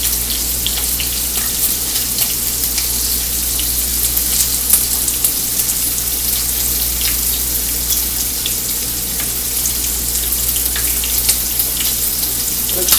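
Bacon frying in its grease, a loud continuous sizzle and spatter with scattered crackling pops, close and steady throughout, no talk.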